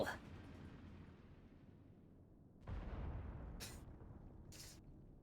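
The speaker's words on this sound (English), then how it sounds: "Gently detonates off screen." An off-screen explosion in Final Fantasy XIV opens with a sharp burst, then a rumbling boom rolls in midway, followed by two short crackling bursts, all faint and distant.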